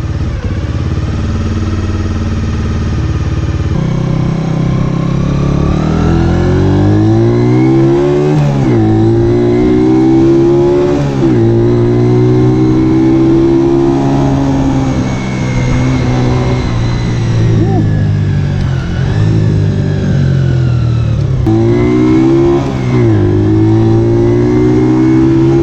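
A Honda Dream 50 motorcycle engine is revved with the throttle in repeated rising and falling sweeps, each climb dropping back to idle, loud and close with no speech over it.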